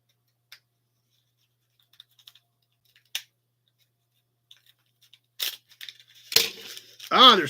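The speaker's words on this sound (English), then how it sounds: "So we're going to cut the whole thing open." Scissors snip and tear open a tightly wrapped package in a few sparse, quiet cuts, followed by louder rustling and ripping near the end, with a voice briefly speaking up close.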